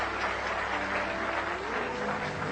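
A dense crowd at a Norman Finkelstein talk applauding and cheering loudly, a continuous roar of clapping and shouting with no breaks.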